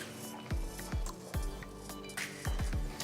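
Cooked vegetables being mashed in a pan for pav bhaji, a series of soft, thudding squishes in an uneven rhythm, about six pressing strokes heard close up with no talking.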